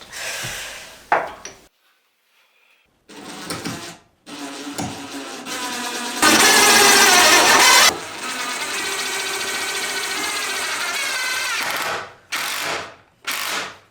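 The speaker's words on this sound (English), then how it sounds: "now I'm just going to screw these in place with 2 screws on each side" A power driver whirs in several bursts, including one long steady run, while screws are driven into a wooden arch bookshelf, with some handling knocks between runs, close and loud.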